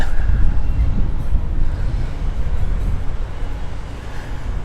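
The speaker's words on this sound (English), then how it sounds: "It's windy today. I have my lavalier mic on, so I hope you can hear me." Wind buffets a clip-on lavalier microphone outdoors at a campground, a loud, steady low rumble with gusty swells throughout and no voice over it.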